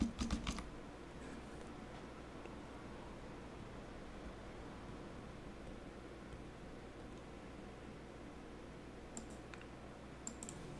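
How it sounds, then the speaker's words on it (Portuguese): A computer keyboard is tapped to enter a command into PowerShell, the keys clicking faintly at close range against a steady background hiss, with a few clearer clicks at the start and near the end. "Vamos executar aqui o PowerShell e digitar o comando Flutter Doctor."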